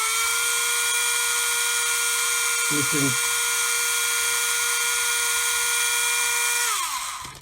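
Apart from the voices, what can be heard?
Tamiya hand drill spinning model barrel against sanding stick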